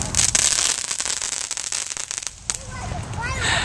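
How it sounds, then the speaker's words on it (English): Fireworks crackle and pop in Sioux City, Iowa, a rapid burst of sharp bangs, then die down as a voice speaks near the end. "Those are our fireworks."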